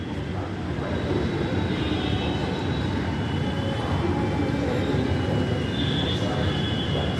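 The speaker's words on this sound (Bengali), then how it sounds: "এই যে দেখো ব্যারাকপুর স্টেশন।" A train running through Barrackpore railway station on an overcast late afternoon, a steady continuous rumble and rail noise holding throughout with no talk.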